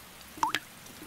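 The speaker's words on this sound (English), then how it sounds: "I can hear the rain drip dropping on my hat!" A few faint, distinct rain drips land on a hat one after another with short gaps, soft liquid plinks against a quiet background, in a children's cartoon.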